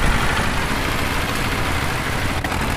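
Steady, loud tractor engine idling and rumbling without a break in Indian Tractor Simulator as the tractor works its way up a hill, with no voices over it.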